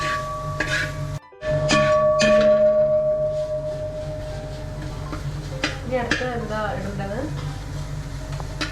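Masala frying in oil in a pan for Kerala-style fish molly, a steady low sizzle running throughout with clinks and scrapes of a stirring utensil, and a voice talking over it.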